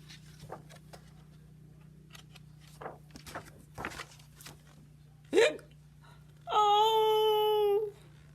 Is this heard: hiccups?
yes